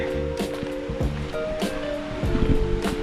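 A river at a campsite, the water rushing with a steady, noisy wash close by, mixed with scattered knocks and a few tonal background sounds.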